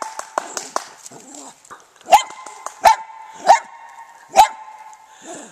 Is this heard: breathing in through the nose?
no